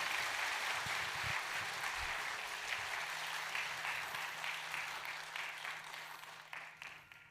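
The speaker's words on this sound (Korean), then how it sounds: "수여하실 때 큰 박수로 축복해 주시기 바랍니다" Congregation of Juan Methodist Church applauding during a Sunday service appointment ceremony, a steady wash of clapping that holds fairly evenly, then gradually thins and fades toward the end.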